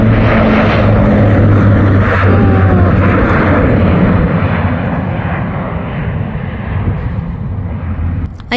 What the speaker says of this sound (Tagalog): Ayan po, para another plane na nag-take off po.